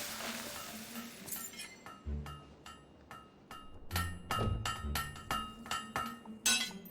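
Repeated metallic clinks of a hammer striking a blade at a forge in a video game set in Bowerstone, irregular ringing blows growing louder and more frequent toward the end, with no talking.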